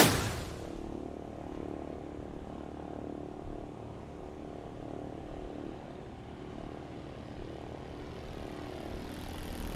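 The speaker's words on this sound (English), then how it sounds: "And there's our Stinson friend going around." A Stinson propeller airplane going around at a STOL competition practice field, its engine droning steadily at moderate distance after a brief louder onset, with no talk.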